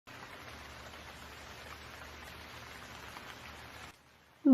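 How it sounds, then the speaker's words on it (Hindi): Steady rain falls as an even, hissing wash for about four seconds, then cuts off abruptly into near silence before a sudden louder sound at the very end. "बरसात का मौसम आ गया था।"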